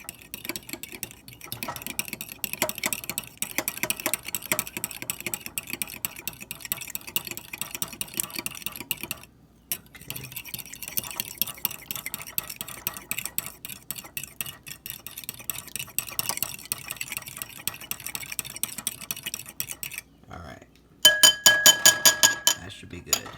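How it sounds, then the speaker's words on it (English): Eggs are whisked in a bowl in a home kitchen: steady, rapid clinking of a utensil against the bowl continues for a long stretch with a short pause, and louder clinks come near the end. "Once you've whisked your eggs and they're fully mixed, you can set that aside."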